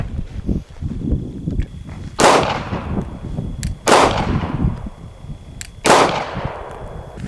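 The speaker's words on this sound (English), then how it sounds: "We're trying 9mm and a Glock 43." Three loud 9mm pistol shots from a Glock 43 fired into a training dummy, evenly spaced about two seconds apart, each a sharp crack with a brief decay over a low background rumble.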